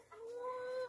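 A broody hen clucks close by in a steady, murmuring run of soft calls lasting about a second, with no other voices present.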